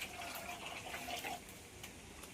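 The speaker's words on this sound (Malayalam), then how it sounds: "ആസിഡാണ് ഇങ്ങനെ ഒഴിച്ചു വെച്ചേക്കുന്നത്" Acid poured into a container of water while preparing a coagulant bath for rubber sheet making: a steady splashing pour lasting a couple of seconds, fairly close and continuous, with no talk.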